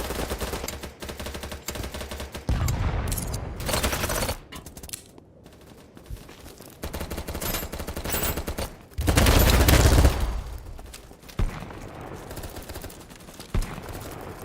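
Bursts of rapid SMG fire ring out loud and close in Battlebit Remastered, coming in repeated clusters with short gaps and a few quieter stretches between volleys.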